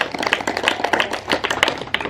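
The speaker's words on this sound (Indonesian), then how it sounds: "Tepuk tangan dulu" A group claps together during oratory practice at a student organization's basic training session: a dense, steady patter of many hands, fairly close and moderately loud, for the whole stretch with no break.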